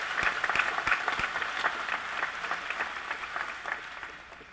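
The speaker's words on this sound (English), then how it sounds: "Let's give them a round of applause, all of them." Audience applause at a college commencement ceremony, a steady wash of many hands clapping with some sharp individual claps standing out near the front, moderately loud and sustained throughout with no talk.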